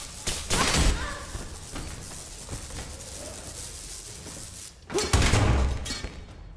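Enemies firing at the player in Blade and Sorcery, two loud bursts of impact and gunfire-like cracks separated by a quieter stretch of scuffling noise.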